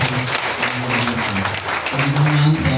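Applause at a Holy Family fiesta celebration in a chapel community, clapping running under someone speaking loudly over it throughout.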